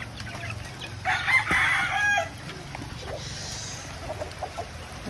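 A rooster crows once loudly and nearby at a small chicken coop, followed by softer clucking and chicken chatter against a steady outdoor background.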